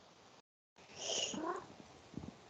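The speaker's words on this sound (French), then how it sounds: "C'est un chat qu'on entend derrière?" A cat in a quiet room during a hypnosis session gives a close, soft trilling chirp, then rumbles in a low purr, with faint room hiss around it.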